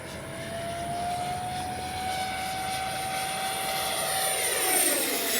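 A Freewing 70mm F9F Panther RC model jet makes a full speed pass, a loud steady ducted-fan whine that holds and rises slightly in pitch as it sweeps by, with no talk.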